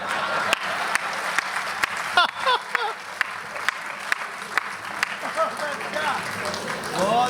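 Audience clapping at a Hindi hasya kavi comedy show, scattered sharp claps with uneven spacing and a thin bed of crowd noise, while a voice talks and people laugh over the clapping.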